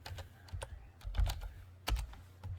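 Typing on a computer keyboard, entering a prompt into an image generator: a quick, irregular run of close key clicks with a couple of heavier taps, no voice.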